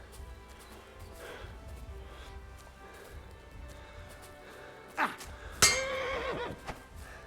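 A horse whinnies sharply in the medieval role-playing game Kingdom Come: Deliverance 2, a loud rising neigh with a second longer call after it, over a low murmur of game ambience with faint hoof and impact sounds.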